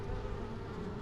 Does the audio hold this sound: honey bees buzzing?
yes